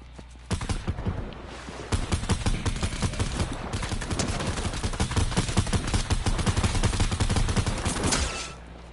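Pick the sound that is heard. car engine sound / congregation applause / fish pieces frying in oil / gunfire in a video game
gunfire in a video game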